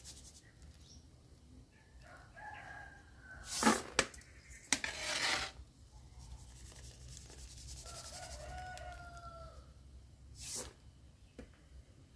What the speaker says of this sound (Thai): เราจะช้อนออกแบบนี้เลยนะคะ